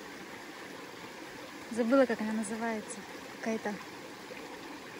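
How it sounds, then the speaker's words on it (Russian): A river flows with a soft, steady rushing murmur in an outdoor setting near Sokoliy and Bely stones, heard at a distance beneath a woman's brief speech. "А вот и река."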